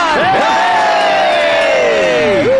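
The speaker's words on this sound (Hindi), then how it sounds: "क्यों ताली बजा रहे हो?" A crowd cheers and whoops for a singer being welcomed on stage, with rising and falling shouted whistles over a dense roar that holds loud throughout.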